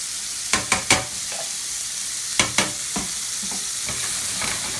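Shrimp and garlic frying in a pan for lemon garlic shrimp linguine, with a steady close sizzle broken by a few sharp clinks and scrapes of a utensil.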